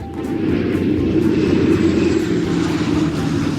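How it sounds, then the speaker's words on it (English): A propeller or jet aeroplane passing overhead at an air show, a steady broad low rumble that holds at a constant loud level for several seconds with no voices. "He doesn't like the sound of aeroplanes."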